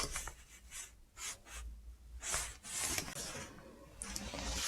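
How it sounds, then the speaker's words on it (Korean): Tarot cards being laid out on a table, heard as close, soft sliding and brushing swishes in irregular strokes with short pauses between, no speech. "자, 카드 나열해볼게요."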